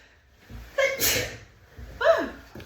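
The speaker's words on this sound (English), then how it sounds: "I have to sneeze" Someone lets out two sneezes close up, each with a quick sharp burst of air and breath around it.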